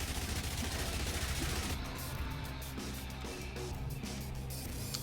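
A minigun fires in the zombie survival game Yet Another Zombie Survivors, a dense, continuous stream of rapid shots amid a chaotic wash of game noise, loud and unbroken throughout.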